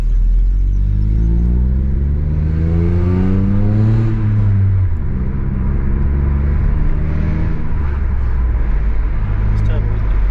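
A Ford Fiesta ST2 with a 1.5-litre turbo engine revs up, its deep rumbling drone climbing in pitch over a few seconds before falling back to a steady idle, with people talking over it.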